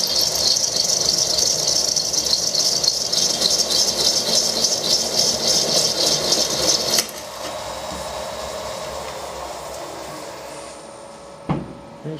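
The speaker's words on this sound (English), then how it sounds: "It's not taking a great deal of force to get this cutter to go through here." A Banggood hole cutter boring through stainless steel, a loud, close, steady grinding squeal with rattling chatter that drops off abruptly partway through, then a quieter whir winding down with a brief knock near the end.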